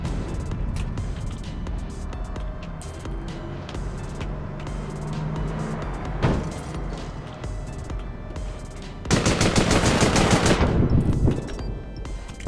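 Rapid automatic gunfire rattles in APB Reloaded amid vehicle engine noise, followed by a sharp sniper shot and a dense, loud burst of fire toward the end.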